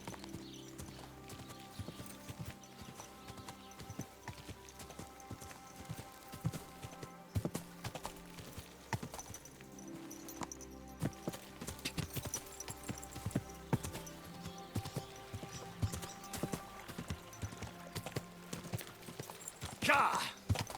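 Horse hoofbeats from riding in the video game Kingdom Come Deliverance II, rhythmic clip-clop at a steady gait with creaking tack and background game music, a voice speaking over the riding and a neigh near the end.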